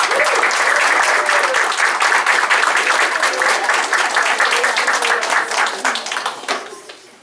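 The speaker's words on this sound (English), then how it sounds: "let's give everybody a round of applause." A crowd at a town council meeting claps loudly and continuously for several seconds, then the applause tapers off toward the end.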